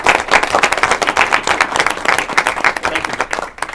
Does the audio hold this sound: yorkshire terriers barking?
no